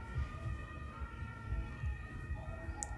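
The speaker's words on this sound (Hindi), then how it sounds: "तभी एक एम्बुलेंस भी आया" An ambulance siren wails faintly from down a crowded German street, its steady tone sitting over a dense rumble of traffic and crowd noise.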